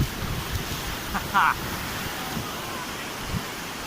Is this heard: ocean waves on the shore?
yes